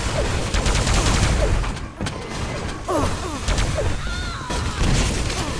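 Rapid weapon fire from a Quake-style team deathmatch tournament match, with railgun and rocket launcher in play: dense, loud bursts of shots and explosions overlapping continuously with game effects throughout.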